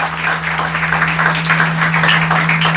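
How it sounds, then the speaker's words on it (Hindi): Sustained applause from an audience greeting honoured guests at a felicitation ceremony for toppers, with a poet gathering, loud and dense throughout with a steady hum underneath. "जोरदार तालियों से"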